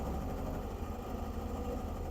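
A Kawasaki ZZR600 motorcycle engine runs with an air leak from loosely fitted carburettors, a steady low idle rumble with slight uneven vibration, faint and continuous.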